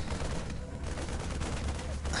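Rapid, continuous gunfire from Terran Marines in a StarCraft II Terran-versus-Protoss match on Xel'Naga Caverns. The dense, steady volley runs through the whole clip with no pauses.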